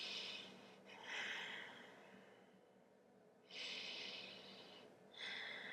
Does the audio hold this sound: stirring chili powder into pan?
no